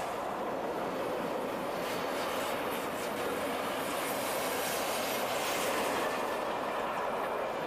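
A Swiss Class 460 electric locomotive hauls a train along the rails, giving a steady, loud, continuous rumble and rushing roar with faint wheel clatter and no breaks or voices throughout.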